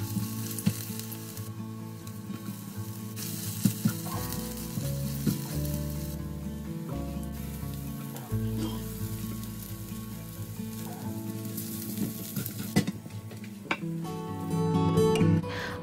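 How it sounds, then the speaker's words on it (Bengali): Chopped onion, potato and garlic fry in hot oil in a pan, giving a steady, close sizzle with soft crackling and occasional stirring throughout, with no talking. "একটু রসুন দিয়ে তেলে ভেজে নিচ্ছি।"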